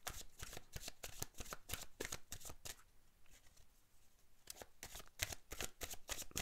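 Oracle cards being shuffled before one is drawn, a soft, close, rhythmic riffle of cards that pauses briefly midway and then resumes, with no talking.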